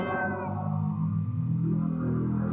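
A cat meow sound effect plays from an Alien pinball machine, a loud, drawn-out electronic meow with a stack of steady tones that lasts a couple of seconds with no talking.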